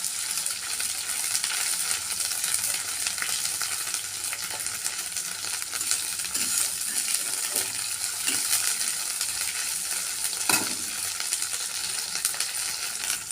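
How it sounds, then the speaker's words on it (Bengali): Ginger-garlic paste and onion paste fry in oil in a pan, giving a steady close hiss and crackle with a soft stirring clatter and one brief clink, no voices. "আদা রসুনটাকে পেঁয়াজ বাটাকে ভালো করে ভেজে নেব।"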